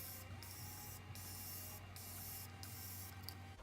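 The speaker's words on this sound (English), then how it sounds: "I'm going to be going in with the new to me Morphe Continuous Setting Mist." Several short hissing bursts from a Morphe Continuous Setting Mist bottle, spaced irregularly over a steady background hum, close and fairly faint with no voices.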